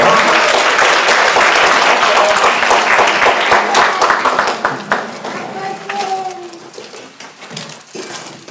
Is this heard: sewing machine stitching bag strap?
no